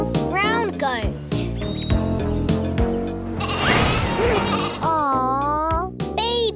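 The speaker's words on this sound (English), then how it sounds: "Baby goat." A baby goat bleats in several wavering, close calls, layered over music and a voice speaking.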